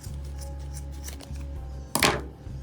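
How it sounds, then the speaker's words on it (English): Scissors cut the legs off a pair of tights, with soft snipping and fabric rustle over a low steady hum and one brighter, louder crunch of the blades near the end. "So I just cut the legs off entirely."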